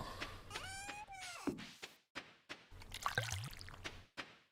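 Crops being watered in the farming game Stardew Valley, several short soft splashing pours with small thuds and chimes between them, quiet and intermittent, with no speech.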